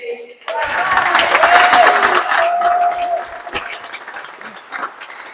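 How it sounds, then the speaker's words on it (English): Round of applause at a squash event, Cornwall vs England Masters and Professional session: a swell of clapping with some cheering that builds, holds, then thins out into scattered claps, with voices over it. "Can we have a round of applause for Jonny?"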